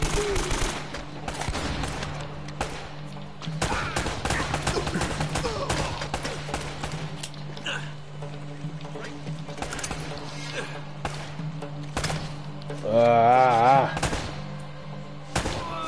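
Gunfire in Uncharted: Drake's Fortune comes as sharp, repeated shots and rapid bursts over a low droning game background, loud and close, with a brief warbling effect near the end.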